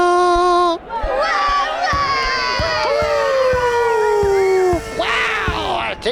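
A crowd at a princess's coronation ceremony whoops and cheers in loud, drawn-out, wavering bursts of many voices, with brief pauses between swells.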